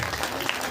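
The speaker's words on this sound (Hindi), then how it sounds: "अपने लिए जोरदार तालियां, और उनकी सारी लाइफ लाइन ऑफलाइन उनके लिए जोरदार तालियां" Brief burst of audience applause at a motivational leadership event, a dense wash of clapping lasting under a second, loud and close with no clear voices.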